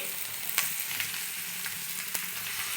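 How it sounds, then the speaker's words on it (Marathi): Thick gram-flour pithla cooking on a tava with curry leaves and coriander, sizzling steadily at close range with a few sharp crackles and stirring scrapes, no voices. "तव्यातच पिठलं करायचं आपल्याला, मस्त घट्ट घट्ट."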